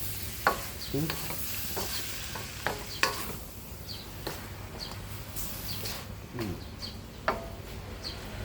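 Bamboo shoots and egg being stir-fried in a pan, a steady close sizzle broken by frequent spatula scrapes and clacks against the pan, no talking.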